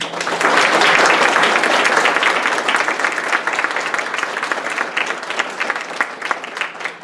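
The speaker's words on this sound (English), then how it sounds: "I would like a round of applause for Jennifer" Round of applause at a township's annual town meeting, a loud burst of many hands clapping in a hall that peaks early and gradually tapers while staying dense.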